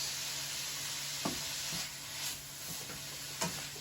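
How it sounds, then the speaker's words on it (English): Mince frying in a pan for spaghetti Bolognese while being broken up with a flipper, a quiet continuous sizzle with a few faint scrapes and taps of the utensil. "You can grab this, the flipper we call it, and you're going to break up the mince."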